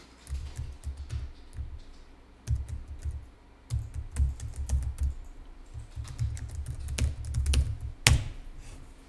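Computer keyboard typing in irregular bursts of quick, close key taps, with a sharper single keystroke near the end like a press of the enter key; no voices.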